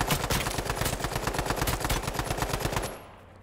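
Another player's gun fires a sustained, evenly paced volley of shots in the video game H1Z1, loud and steady for about three seconds before cutting off.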